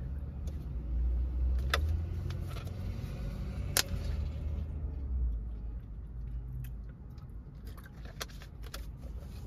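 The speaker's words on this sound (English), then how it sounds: "This truck just drove by" Truck passing on a nearby street, a low rumbling engine that swells and fades over several seconds, with close chewing and small clicks on top.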